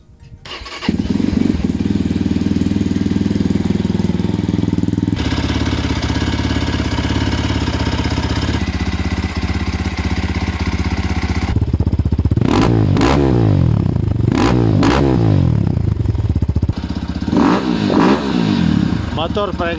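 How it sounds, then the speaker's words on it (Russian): Avantis Enduro Exclusive fuel-injected, air-cooled motorcycle engine runs loud and close at a steady idle for about twenty seconds, with a few sharp throttle blips and clattering revs near the end. "давайте запустим двигатель, послушайте, как он работает, как запускается"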